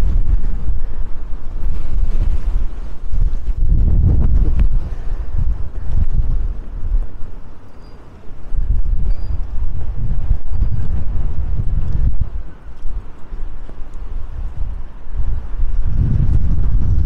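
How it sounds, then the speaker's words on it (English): Strong wind buffets the microphone outdoors in the seaside town of Hythe, Kent, in heavy low rumbling gusts that surge and ease repeatedly, with no voices. "But it's very windy, not too cold."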